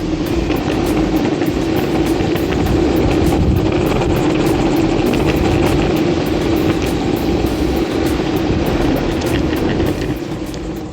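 Maxfind MAX 5 electric skateboard climbing a hill at full throttle outdoors, a loud steady rumble of wheels and motor with wind noise throughout.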